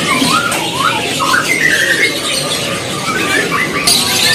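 Kenari loper canary singing at a busy bird market, its chirpy warbling phrases rising over a dense murmur of crowd noise, other birds and voices throughout.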